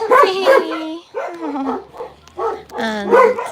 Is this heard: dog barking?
yes